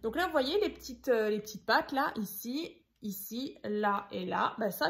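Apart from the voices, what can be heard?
None of the usual background noises is heard.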